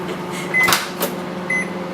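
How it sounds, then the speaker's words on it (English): A microwave oven heating elderflower cordial hums steadily and loudly up close, with a few faint clicks and short beeps over the constant drone. "we're just going to watch a microwave."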